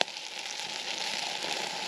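Food sizzles in a pot over a campfire in a rainy forest camp, a soft steady crackling hiss lasting a couple of seconds with no voices.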